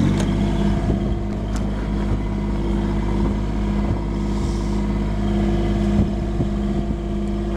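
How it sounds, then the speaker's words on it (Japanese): A Bobcat skid-steer loader's engine runs steadily outdoors in strong wind, a loud, constant low rumble with a few faint knocks and clatters over it and no talking. "エンジン動かしますか。"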